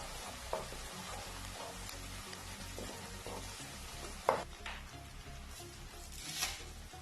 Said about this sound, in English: So I'll add this and I'll stir fry it for some seconds.